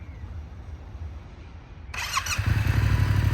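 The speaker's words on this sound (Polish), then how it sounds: "Uruchamiamy motocykl." A motorcycle at a driving exam course in Łódź starts up, with the engine catching suddenly partway through and then settling into a loud, steady idle close by.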